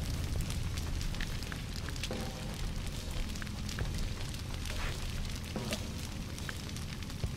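A forest fire burns in the game Shelter, a dense, steady roar of crackling flames with scattered pops and low rumbling, loud and unbroken.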